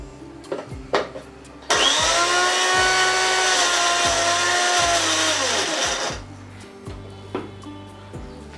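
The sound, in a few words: blender making spinach paste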